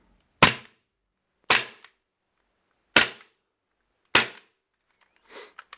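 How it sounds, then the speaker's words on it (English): Four sharp, loud shots from a Cybergun/VFC FN FNX-45 airsoft pistol, evenly spaced about a second apart with crisp snapping reports, followed by a softer, fainter click near the end. "really satisfying gun to shoot"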